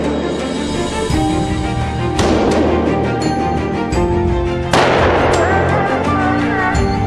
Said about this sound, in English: The sound of gunfire echoes among the misty mountains